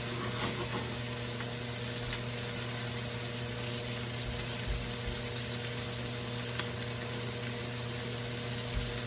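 Pork chops fry in hot oil with a dense, continuous sizzle that holds steady and fairly loud throughout, without any talk.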